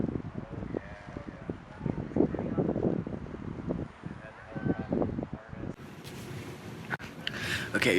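Gusty wind buffets the microphone in uneven rumbling bursts outdoors in Rocky Mountain National Park, with rustling and a brief hiss toward the end.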